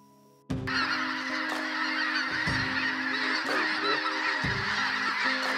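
A flock of snow geese and Canada geese honking loudly and continuously on a dry field hunt in Canada, many overlapping calls starting abruptly and carrying on close by.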